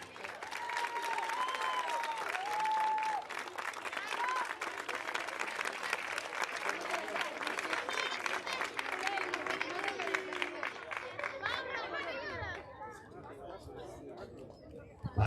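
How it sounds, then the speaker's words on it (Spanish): Audience applauds and claps for the third-place team at a 5x5 cup awards ceremony in Santiago de Compostela, steady and dense for about twelve seconds before thinning out, with crowd chatter mixed in. "Fuerte aplauso para ellos."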